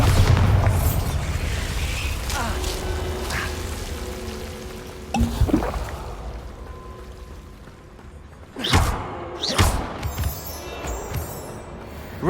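Bombarda explosion spells cast in Hogwarts Legacy, with a couple of sharp booming blasts midway and near the end over a low rumbling game backdrop, followed by debris-like rattles.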